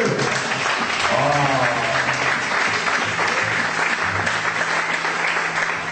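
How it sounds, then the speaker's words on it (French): Church audience applause during a French-language sermon by a bishop, continuous clapping mixed with voices and cheering, some tonal vocal sounds rising above the wash. "applaudissez ceci, oui"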